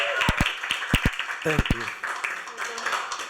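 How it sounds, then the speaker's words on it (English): A small community talk-show audience gives a round of applause, scattered, moderately close claps running under a voice speaking briefly over them. "Give yourself a round of applause."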